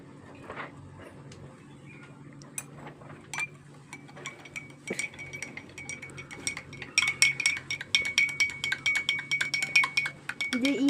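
Salt goes into a glass of water and a spoon stirs it, giving light scattered clinks early on, then a quicker run of bright, close clinks against the glass toward the end.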